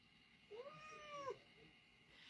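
A cat gives a single drawn-out meow, faint and close, alone in a quiet room.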